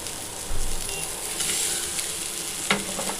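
Cauliflower (gobi) tossed with fried capsicum and cornflour in a hot pan, a soft continuous sizzle with a few scraping stirs and clinks.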